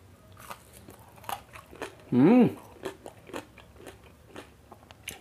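A single sharp crunchy bite into crispy fried pork belly skin, loud and close, with quiet chewing and faint background noise around it.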